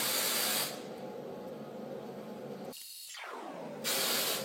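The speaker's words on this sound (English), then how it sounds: "Lightly hairspray." Hairspray misted lightly onto curled hair, a steady soft aerosol hiss in two longer bursts separated by a brief pause, close and fairly quiet.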